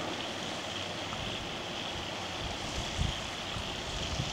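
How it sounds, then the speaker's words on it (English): Water from the Woronora Dam outlet pipe gushes and roars steadily as a broad, constant wash of noise, with a few louder surges near the end and no voices. "there's water coming out over there on the right"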